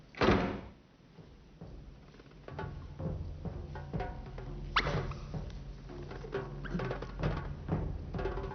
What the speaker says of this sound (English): Would you mind closing the door?